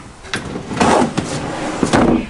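A sliding garbage drawer in a Cedar Creek Hathaway 38FBD RV kitchen is pulled out and pushed back, giving close rumbling slides and a few knocking clunks against a steady low background.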